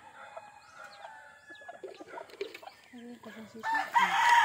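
Backyard roundhead chickens with young chicks clucking and peeping alongside a rooster crowing, close by and mixed with faint voices, growing louder toward the end.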